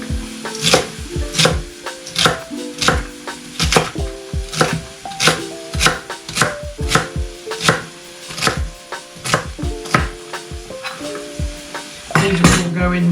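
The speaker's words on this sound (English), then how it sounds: "how you do your celery is up to you. I'm just slicing it straight down the middle" A knife slices celery on a cutting board in a home kitchen, a steady series of crisp, close chopping thuds in an even rhythm, with a pan sizzling quietly behind.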